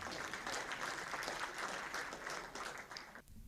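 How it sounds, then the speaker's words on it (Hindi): Audience applause at an evening of poetry and anchoring held at the Indian Embassy in Kuwait, a continuous patter of many hands at moderate distance that stops abruptly near the end. "आप लोग अगर चाहते हो तो तालियां भी बजा सकते हैं।"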